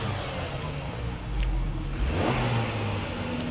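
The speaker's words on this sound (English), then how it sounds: "I hear that turbo?" A turbocharged car engine revs at a car meet, a moderate rumble that swells and then holds at a higher pitch, heard at some distance amid outdoor background noise.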